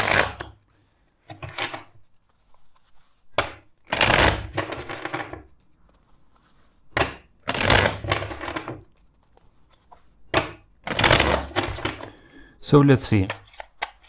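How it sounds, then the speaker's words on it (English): Bursts of tarot card shuffling riffle through the clip, close and crisp, with a few brief spoken words between the shuffles. "let's shuffle the deck four times"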